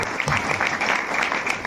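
Loud, steady applause from an audience at a welcoming ceremony honouring a guest from Bhopal, a dense wash of clapping filling the whole stretch without pause.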